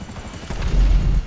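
A loud, deep explosion in the video game GTA V, a heavy low boom that swells and rumbles for about a second.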